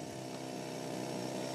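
A rock drill runs continuously at a mining competition, a dense, loud mechanical roar with a steady rattling hammer and no pauses or voices.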